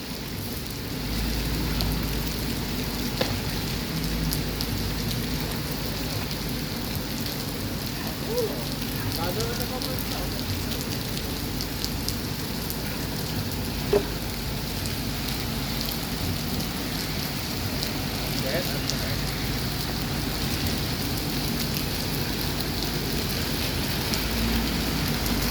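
Rain pours steadily at the Alang-Alang Lebar bus terminal, a constant hiss with a few louder drips and thumps mixed in, and a distant low rumble beneath.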